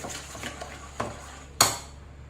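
A spoon scrapes and clinks against a bowl while mixing wheat-flour dosa batter, a few soft strokes followed by a sharper knock near the end.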